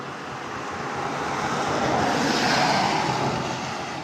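Steady rain falling on a bike ride home in wet weather, a broad even hiss that swells slightly in the middle, with no voices.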